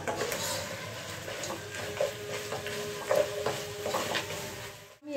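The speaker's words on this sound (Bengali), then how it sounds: "এখন আমি এইটা একেবারে লাল লাল করে ভাজি করে নেব।" A katla fish head fries hard in hot oil in a pan, a constant loud sizzle broken by occasional scrapes and taps of a spatula, with a brief dropout near the end.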